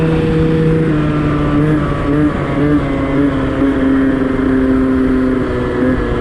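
An MBK Booster 3VL scooter engine holds near its maximum revs while running downhill, a steady loud droning whine with harmonic tones that waver slightly but stay sustained throughout.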